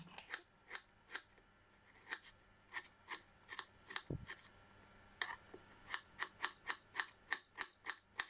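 A knife thinly slices pear for a cheese and pear pizza, giving crisp, evenly spaced cutting clicks against a board, close and distinct, with a brief pause and a low thump partway through.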